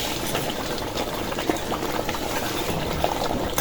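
Masoor lentils dropped into a pot of boiling water, with steady bubbling and a dense liquid hiss throughout, plus a few faint splashes and clinks.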